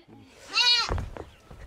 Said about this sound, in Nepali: बाख्रा रहेछ, भैँसी रहेछ।